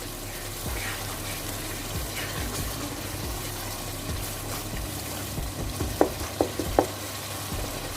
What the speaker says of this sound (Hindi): इसको अच्छे से मिक्स करते हैं और मसाले को अच्छे से भून लें